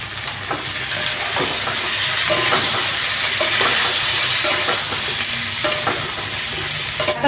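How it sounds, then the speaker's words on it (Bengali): Potatoes and cauliflower fry in a pan under a continuous sizzle, broken by repeated scraping clacks as a spatula stirs them. "আলুটা একটু ভাজা হলো এখন ওর মধ্যে ফুলকপিটাও দিয়ে দিই"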